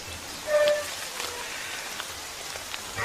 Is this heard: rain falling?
yes